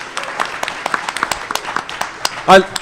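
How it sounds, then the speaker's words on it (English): Convention panel audience giving scattered applause, sparse individual claps spread across the moments, fairly close, with a brief louder voice near the end. "Give him a round of applause."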